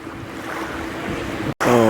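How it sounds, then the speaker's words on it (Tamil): Around six boats head out to sea together, their engines droning under steady wind and wave noise, with the hum continuing through a brief dropout near the end. "கிட்டத்தட்ட ஒரு 6 போட் ஒன்றா தொடர்ந்து போகுது"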